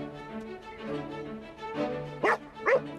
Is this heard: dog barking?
yes